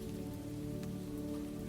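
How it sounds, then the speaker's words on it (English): Gentle rain patters softly and steadily on surfaces, a faint, even wash of drops with a low steady hum beneath it and no voices. "the world has grown hushed beneath a silver veil of rain"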